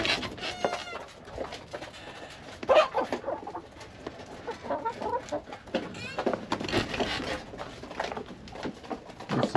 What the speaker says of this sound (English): There's a chicken outside.